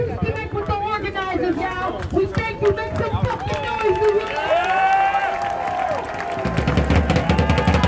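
A street protest crowd in Foley Square by the Manhattan courthouse cheers and yells, loud and dense, with whoops and shouts swelling near the end and a voice over the crowd.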